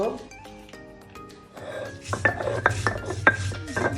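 Lentils and ginger being ground on a grinding stone, a repeated rough scraping and rasping that begins midway and grows louder, with someone talking and some tonal background sound early on.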